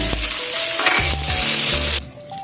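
Onions sautéing in oil in a home kitchen pan, a steady close sizzle with low clatter from stirring, cutting out sharply near the end.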